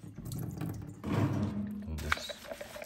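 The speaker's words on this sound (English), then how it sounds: "Now just rinsing it" Tap water runs and splashes over a Dyson vacuum cleaner part being rinsed in a sink, a steady close rushing stream that shifts as the part moves, with a voice speaking over it.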